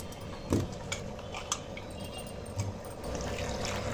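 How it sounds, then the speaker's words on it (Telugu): Water is poured over cut potato pieces in a cooking vessel, a brief splashing pour with a few clinks of metal kitchenware, close and fairly quiet, with no talking. "వాటర్ పోసేసుకోవాలి."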